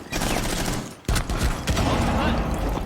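Dense rapid gunfire from a multiplayer shooter video game, a continuous loud barrage with a brief break before it resumes, clattering on with no talk over it.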